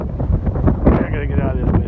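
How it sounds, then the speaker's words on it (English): Strong wind buffets the microphone outdoors on a very windy day after overnight rain, a loud, continuous low rumble and roar with a voice briefly audible beneath it. "I gotta get out of this wind."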